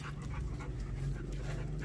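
A puppy pants steadily and close by, a quick rhythmic huffing that runs unbroken from start to end, with no voices over it.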